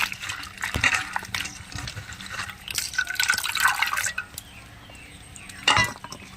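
Water pours over freshly cut pumpkin and greens in a bowl in a village kitchen. It splashes and trickles steadily and close by, with a clink of the vessel near the end.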